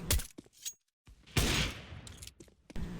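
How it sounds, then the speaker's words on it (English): Flashbang grenades going off in a tactical shooter game, several sharp bursts with a silent gap, then a broad loud blast followed by lingering noise and further pops. "Flashbang."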